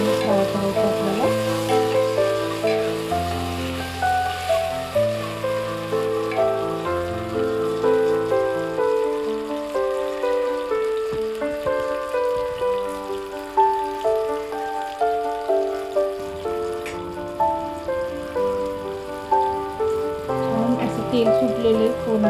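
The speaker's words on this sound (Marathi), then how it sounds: "तो सुद्धा त्या कांद्याच्या फ्राय करायचा आपल्याला" Chopped tomato fries with onions in a pan for rajma masala, a continuous sizzle running under louder background music with melodic notes throughout and no talking.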